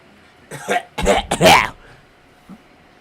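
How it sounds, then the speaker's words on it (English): A person coughs in a short cluster of three harsh bursts, close and fairly loud, followed by a faint small throat sound after a pause. "Coughing sounds."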